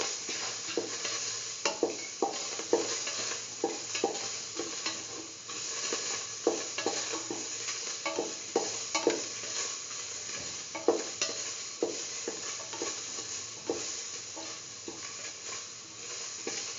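Banana and semolina mixture sautéed and stirred in a pan, with a soft continuous sizzle and repeated scraping strokes of a spoon at an irregular rhythm, close and fairly quiet.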